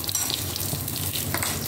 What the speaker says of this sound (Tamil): கருவேப்பிலையோட பச்சை கலரும் ஈரமும் அது வெடிக்கும்